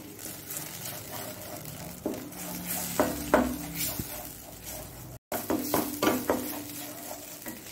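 Croaker fish fries in coconut oil for a Mangalore-style roast, a steady, moderate sizzle punctuated by spatula scrapes and metallic clinks of utensils against the pan, with one short silent break midway.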